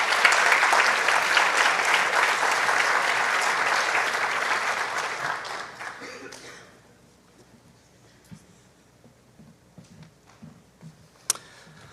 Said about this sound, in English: Let's give these students one more round of applause.